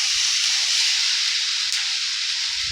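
Vegetables and chopped tomato frying in a pan for sooji upma give off a loud, steady hiss that holds evenly from start to finish, close by, with no talking.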